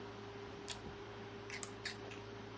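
Scissors snipping paper or craft material for an Easter bunny project, a few short crisp clicks spread across a quiet background with a low steady hum.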